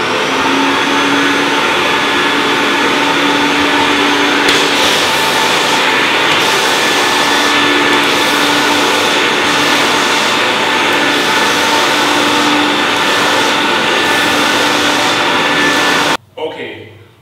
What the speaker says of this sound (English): You're going to turn your vacuum on.